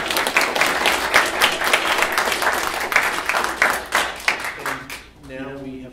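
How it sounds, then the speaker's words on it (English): Audience applause after a US, Japan and China trade panel, a dense burst of clapping that thins out after about five seconds, with a voice starting up at the end. "I'd like for us to acknowledge them with some applause."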